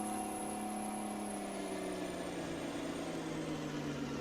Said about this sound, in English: we get to listen to the whistle of this truck